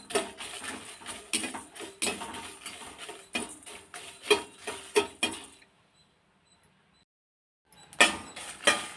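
Rasam spices, pepper among them, dry-roasting in a pan with no oil, heard as repeated dry scraping and rattling strokes of a spoon against the metal, then a pause of near silence before the stirring resumes.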